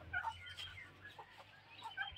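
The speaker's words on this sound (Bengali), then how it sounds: "এগুলো টাইগার মুরগি।" Tiger chickens cluck softly in short, scattered calls, faint and close by, with a few overlapping notes from the flock.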